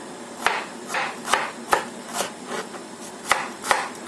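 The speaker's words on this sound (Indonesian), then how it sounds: "aku pakai 5 butir bawang merah. Ini kita rajang tipis saja." Knife thinly slicing five shallots on a cutting board, sharp chopping taps landing in an uneven rhythm about every half second, close and clear with no voices.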